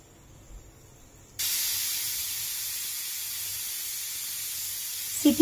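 A pressure cooker holding dal khichuri lets out a sudden loud, steady hiss of escaping steam that starts after a quiet moment and carries on evenly to the end, close by and without talk.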